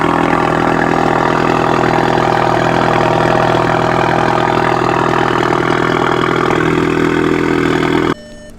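A car engine idles close and loud with a steady, even drone that holds for about eight seconds before cutting off abruptly, with no talking over it.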